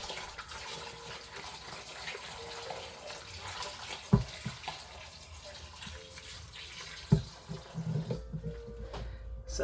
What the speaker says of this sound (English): I'm gonna run a little bit more water in there.